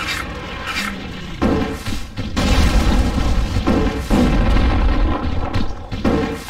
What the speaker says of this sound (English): That was a bad time to use a high explosive grenade.